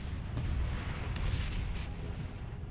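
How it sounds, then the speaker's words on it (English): Explosives detonating in World of Warcraft: a deep, rumbling boom that rolls on for a couple of seconds, fairly faint and distant, with a few sharper cracks early on. "Detonate the explosives and let's get out of here."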